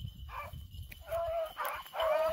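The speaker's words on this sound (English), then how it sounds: "Oh yeah, by the sound of Kodiak." Hounds bay while running a rabbit, several drawn-out bawling howls carrying from a moderate distance over low outdoor rumble, growing more frequent toward the end.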